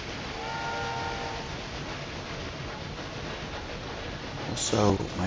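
Trains run in the railway video game Railway Empire 2, giving a steady rumbling rolling noise with a faint whistle tone early on and a brighter horn-like burst near the end, under a voice that talks throughout.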